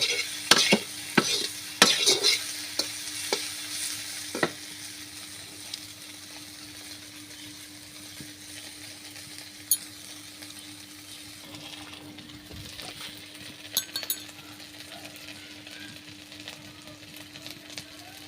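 Onions frying in a pan for a soybean curry, with spoon stirring. A few sharp scraping clicks come early, then a quiet, steady sizzle continues alone.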